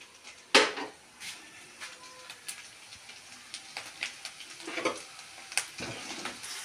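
Onions sizzle softly in a pan while chicken curry is cooked, with occasional stirring scrapes and utensil clinks over a faint, steady fry.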